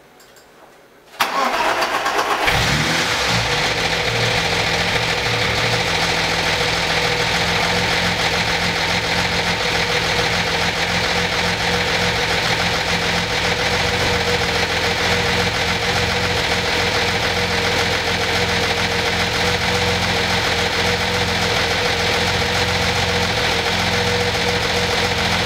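A BMW E30 engine cranks and fires after a cylinder head rebuild, catching abruptly from near silence, then settling into a loud, steady idle with a slight knocking character that continues unbroken.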